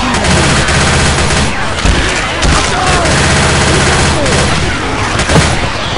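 Dense, loud gunfire in Left 4 Dead 2 on the custom map Wormwood, rapid overlapping shots and bursts filling the whole stretch, with a voice shouting briefly underneath.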